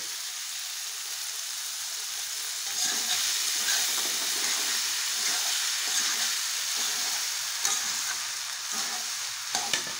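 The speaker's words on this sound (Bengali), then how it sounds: "ঘি দিয়ে নেড়ে চেড়ে" Soaked sabudana pearls stirred and fried in ghee, giving a continuous bright sizzle with intermittent scraping strokes of a spoon against the pan, close and unaccompanied by speech.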